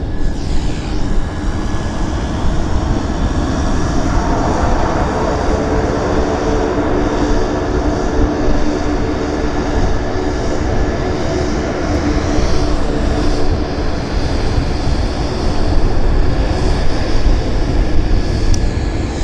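A United airliner wearing a Continental Airlines tail at Vancouver airport, its jet engines a loud, steady broadband roar with low rumble, sustained and close throughout without speech.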